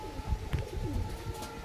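A pigeon at a bird market stall coos in low, soft, rolling notes under faint background chatter and noise.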